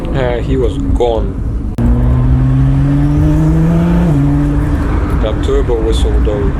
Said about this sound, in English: That turbo whistle though.